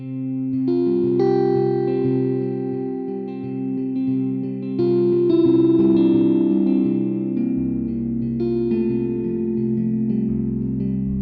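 Guitar played through the Infinite Guitar effects plugin rings out in sustained, layered tones with shimmering echo and chorus, swelling continuously and up close with no pauses and no voices.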